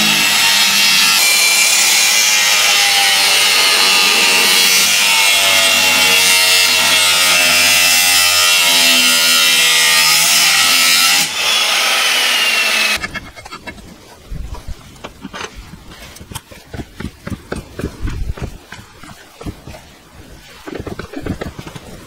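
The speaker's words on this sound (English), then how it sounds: "This drill would probably struggle a bit." Electric drill boring a hole in metal for a Ferguson TE20 pick-up hitch, a loud steady whine for about thirteen seconds that cuts off abruptly, followed by scattered scraping and knocking handling noises.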